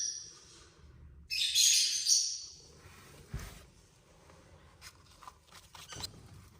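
Hand-reared baby birds being fed formula chirp in a short, high-pitched burst of begging calls, followed by scattered faint peeps, clicks and handling noises close by.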